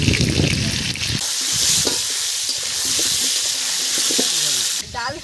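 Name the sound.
potatoes frying in oil for chicken curry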